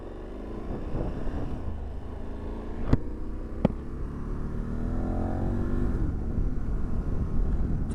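A KTM 1290 Super Adventure S motorcycle engine fires up and settles into a running rumble, with two sharp clicks early on and a rising rev sweep, close and steady without talk.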